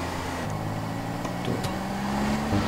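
A car engine drones steadily in GTA San Andreas, holding sustained low tones that shift slightly in pitch, with faint clicks over the hum.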